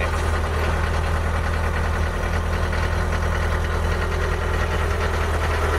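A Toyota BJ40 diesel engine idles steadily and loudly up close, a continuous low rumble with a clattering knock running through it and no voices.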